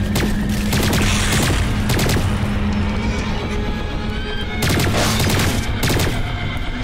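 Pulse rifle fire in Lost Planet 3 crackles in rapid bursts, a dense, loud fusillade that stops and restarts in several volleys over a constant rumbling background.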